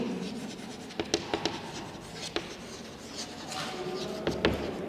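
Marker or chalk strokes on a classroom board during a chemistry lesson give short, scratchy taps and squeaks in irregular bursts, fairly faint under a quiet room hum.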